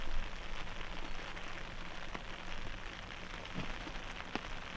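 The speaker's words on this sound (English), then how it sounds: "it's still raining pretty heavy." Heavy rain falls steadily on a disc golf course, a dense, even hiss of drops with no break and no voices.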